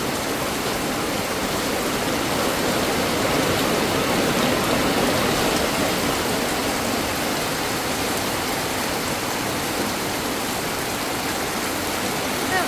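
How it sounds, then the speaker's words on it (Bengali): Heavy rain falls in a village beside an old mud house, a dense, loud, unbroken roar of rainfall on surfaces that stays steady throughout. "প্রচুর বৃষ্টি হচ্ছে"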